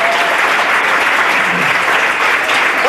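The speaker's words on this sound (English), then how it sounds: "Give them all one more big round of applause." Loud, dense applause from a comedy club audience at a hypnosis show fills the room steadily with continuous clapping throughout.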